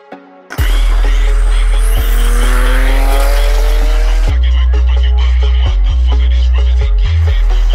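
A 600hp rear-wheel-drive Nissan S15 starts up and drives, its engine droning loud and close with rising revs and abrupt gear shifts.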